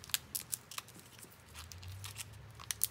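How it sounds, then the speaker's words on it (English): Scissors snipping off the top of a plastic treat bag, several quick sharp cuts spaced across a few seconds with light crinkling of the bag between them, close and quiet. "You can always cut off the top of the bag if you think it's too long."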